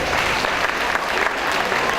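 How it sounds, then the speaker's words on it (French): An audience applauds at a live French stage show after a flexibility stunt, a steady dense wash of many hands clapping together without a break. "C'est pas mal, on peut l'applaudir."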